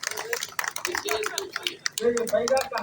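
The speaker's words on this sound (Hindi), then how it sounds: "जोरदार ताली बजा" An audience at a Hindi comic poetry gathering (hasya kavi sammelan) in Kumarda claps in quick, scattered bursts. The claps are fairly faint and sit under people talking close by.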